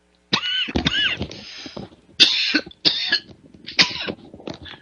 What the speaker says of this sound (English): excuse me, I took a fit of coughing there